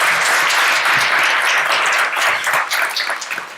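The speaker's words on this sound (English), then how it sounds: "I think it's the first time someone clapped for this" Audience clapping at a tech talk on GraphQL, a dense steady round of applause from a room full of people that tapers slightly toward the end.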